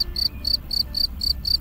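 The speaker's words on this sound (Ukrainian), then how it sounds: "Цієї ночі ще довго лунала музика цвіркуна." A cricket chirps at night in a steady series of short, evenly spaced high trills, about seven in quick succession, clear and close over a faint low background hum.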